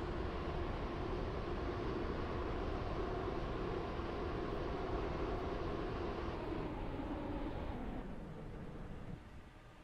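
Train in the Roblox game SCR rolling steadily along the track, a broad continuous rumble with drone that holds loud for most of the stretch, then eases and fades near the end as it slows.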